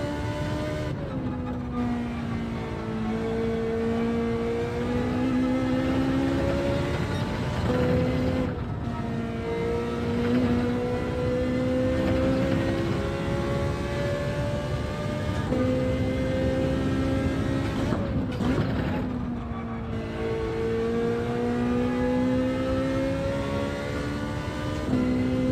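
A race car engine in Gran Turismo 7 at Laguna Seca revs loudly and continuously through repeated upshifts, its pitch climbing and then dropping at each gear change, with no one talking.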